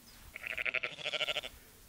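A sheep in the Dutch countryside around Nijeveen gives one wavering bleat lasting just over a second, moderately faint and heard alone.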